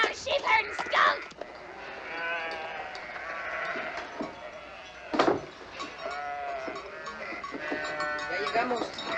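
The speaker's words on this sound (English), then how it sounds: "The sheep are going out." A flock of sheep bleats repeatedly, overlapping wavering calls close by, with a few louder cries breaking through.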